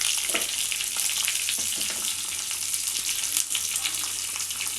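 Dal tempering frying in a cooker on a low flame, a continuous close sizzle with scattered stirring scrapes and light crackles throughout, no voices.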